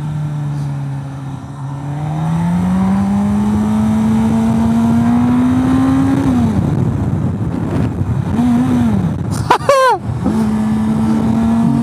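A 2023 Suzuki GSX-S1000GT motorcycle being ridden, its engine note rising and falling through revs with a sharp burst of revving near the end, loud and close with wind noise behind it.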